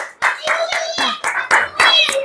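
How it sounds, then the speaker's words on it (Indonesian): Classroom clapping for a student group during an Indonesian language lesson: a handful of loud, sharp, rhythmic claps in a regular beat, close by, with children's voices chanting along between them. "Tepuk tangan untuk kelompok ini"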